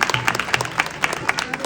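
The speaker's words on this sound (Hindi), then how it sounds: "मैं तालियों से चाहता हूं उनका स्वागत" Clapping from an audience at a Mother's Day celebration in a Hindu temple in Surrey, heard as a steady run of sharp, fairly close claps at a quick, even pace that carries on to the end.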